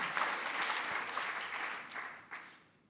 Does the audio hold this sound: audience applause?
yes